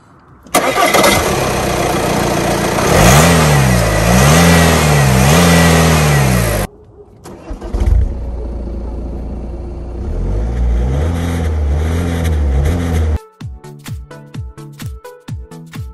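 A 2.0 TDI diesel engine in a 177 hp Audi Q5 quattro S tronic with 165,000 km cranks and fires, then runs loud and close with rising and falling revs. After a brief dip it settles into a steady idle and ends in rhythmic pulsing.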